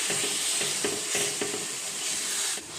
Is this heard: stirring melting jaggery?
yes